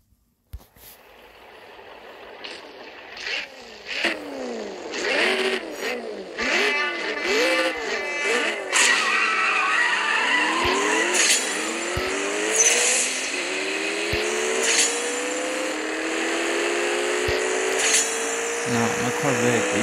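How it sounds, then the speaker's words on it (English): A Corvette revs and drives through city streets in a racing game, its engine note climbing and falling through repeated gear shifts, with occasional tire squeal and clicks, loud and close throughout. "Taking the Corvette out for the streets."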